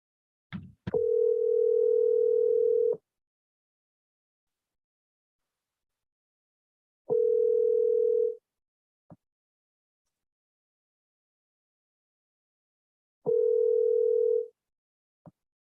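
A telephone ringback tone sounds while calling a friend, three long steady tones separated by several seconds of silence, each ending with a small click.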